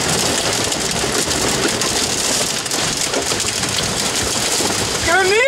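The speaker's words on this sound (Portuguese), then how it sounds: "Granitos!" Dense, steady patter of hailstones drumming on a car body, loud and continuous, with a faint engine hum underneath.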